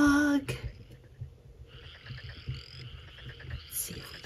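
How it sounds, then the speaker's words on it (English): A frog toy or figure pulled from Play-Doh gives a few short croaks after a brief opening tone, with a soft intermittent chirping pattern over low background rumble and no speech. "Something that says ribbit."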